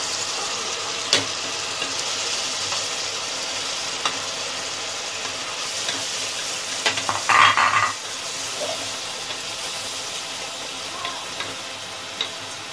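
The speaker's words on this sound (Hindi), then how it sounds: "अभी पूरे मसाले डालेंगे।" Whole spices and ginger-garlic frying in a pan for a green moong curry, with steady broadband sizzling, a spoon scraping and stirring throughout, and a brief louder clatter midway; no talk.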